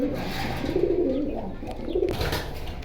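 Pigeons cooing in cages at a market stall selling pigeons in Keraniganj, Dhaka, a steady layered murmur of soft low coos from several birds nearby, with faint background noise.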